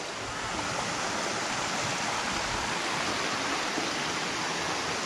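Water rushing at Khao Chamao Waterfall near Pattaya, a steady, dense roar of running water that holds unchanged throughout, with no voices.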